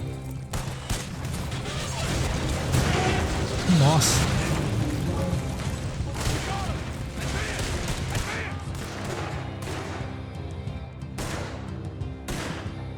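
Gunshots in Red Dead Online ring out as scattered sharp cracks and booms through a noisy outdoor firefight, some near and some farther off, with someone talking over the shooting.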